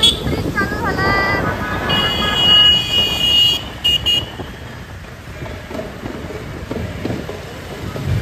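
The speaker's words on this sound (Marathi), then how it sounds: "नवीन ट्रेन चालू झालाय" A newly opened train line runs past in Pune during the Ganpati festival, a loud rumbling roll of wheels with some high squealing, fading slightly, with people talking nearby.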